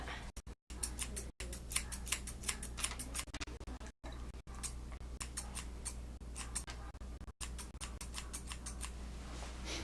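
Thinning shears trimming a Westie's fur near the eyes: rapid repeated crisp snips in quick bursts, very close, with brief pauses between runs of cuts and no talk.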